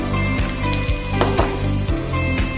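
Ginger drops into whole spices frying in oil and ghee, producing a loud, constant sizzle with a few sharp crackles and spatters over a continuous hiss. No one talks.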